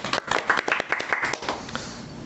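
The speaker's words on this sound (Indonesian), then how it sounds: "Tepuk tangan dong." A small group of children and friends clap together in a casual home podcast setting, a quick burst of loose, uneven hand claps lasting a couple of seconds, with a little talk mixed in.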